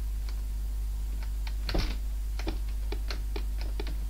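Keys on a PC keyboard clack in an uneven run of light taps while a Saint Tropez boat-racing game plays on a Thomson MO5 or TO7/70 computer, over a constant low electrical hum.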